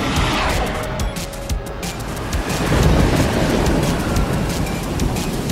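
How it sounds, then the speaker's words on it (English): Cartoon sound effect of acid rain pouring from clouds, a steady dense hiss of rainfall with low thunder rumbles rolling underneath, continuous and fairly loud. "An acid rain comes from these clouds!"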